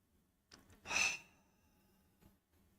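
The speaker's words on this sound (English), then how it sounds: "So I invite you to join me with this breath." A slow, deep breath taken during a guided meditation: one soft, airy exhale swelling and fading over about half a second, close and quiet, with faint breathing around it.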